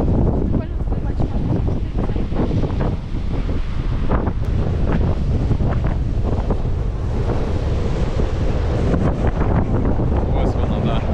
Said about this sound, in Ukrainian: З якоїсь щілини хвиля заходить, і з тої щілини аж вверх вон вода, як це, як гейзер виходить.